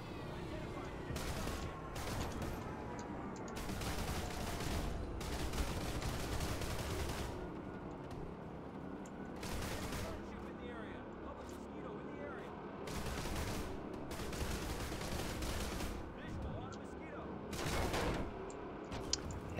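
Gunfire in the video game PlanetSide 2, with repeated bursts of shots spread across the clip amid a busy, fairly quiet battle soundscape.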